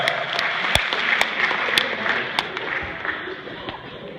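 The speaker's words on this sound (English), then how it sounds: "Give them a round of applause, guys." Audience applauds at an after-prom hypnosis show, a dense crowd clapping with a few sharp individual claps standing out, moderately loud and continuous, with some voices mixed in.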